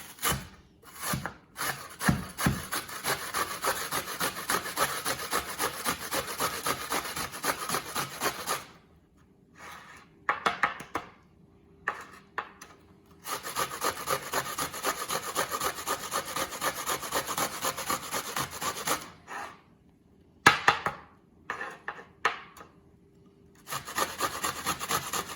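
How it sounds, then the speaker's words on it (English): Fresh onion rubbed over a hand grater in a home kitchen, a steady rasping scrape in long continuous bursts, then shorter strokes with pauses between them, close and alone with no talking. "I'm going to grate up about 2 tablespoons of fresh onion"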